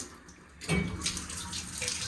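A hotel bathtub shower is switched on at good pressure, a quiet room suddenly filled by a loud, steady hiss of running water that continues without talk.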